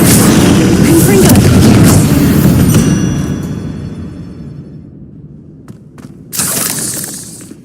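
A loud booming blast from the Confringo explosion spell in Hogwarts Legacy, crashing at first and rumbling as it slowly decays, followed by a softer burst near the end.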